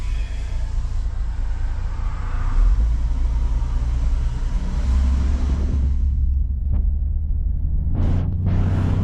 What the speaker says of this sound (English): Oh boy, we got traffic.